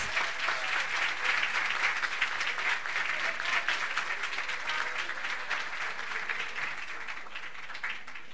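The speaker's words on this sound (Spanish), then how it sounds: "el aplauso es para ustedes" Sustained, dense applause from a workshop audience on orchestral teaching fills the room without a break, loud and steady and tapering slightly toward the end, with no voices heard.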